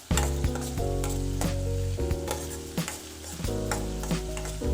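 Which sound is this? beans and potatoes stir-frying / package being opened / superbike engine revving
beans and potatoes stir-frying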